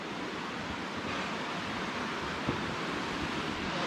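Waterfalls in the Montana mountains make a steady, broadband rushing roar, continuous and fairly even throughout with no voices.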